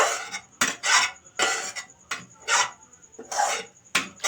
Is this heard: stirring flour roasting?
yes